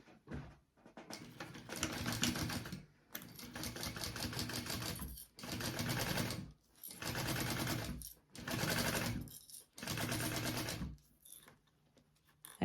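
Sewing machine basting piping onto a tote bag, running in five or six short bursts of rapid stitching separated by brief pauses, close and fairly quiet.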